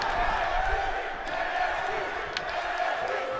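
A WWE wrestling video game crowd chanting NXT at an arena match, a dense, steady roar of massed voices with rhythmic chant tones running throughout, no commentary over it.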